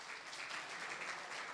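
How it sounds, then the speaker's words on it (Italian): Brief, steady applause from an audience at a football awards show, a soft continuous patter of many hands clapping at a distance with no voices over it. "Vogliamo fare un applauso a Federica"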